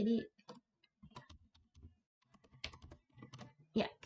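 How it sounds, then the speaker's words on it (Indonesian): Typing on a computer keyboard to re-enter a password, a close run of quick irregular key clicks in short bursts separated by brief pauses, fairly quiet. "kita akan ketik ulang password yang sudah tadi kita masukkan"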